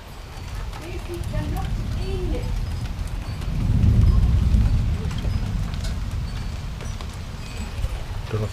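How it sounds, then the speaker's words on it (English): Low thunder rumbles during a rain shower, a deep rolling swell that builds and fades in the middle while rain patters steadily in the background. "don't know if you can hear that thunder there."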